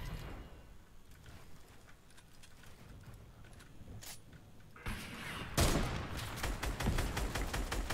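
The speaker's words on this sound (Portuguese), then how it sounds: "Estou a ver tiros, já." Gunfire in the video game Fortnite, faint scattered shots at first, then a louder closer burst of rapid repeated shots toward the end.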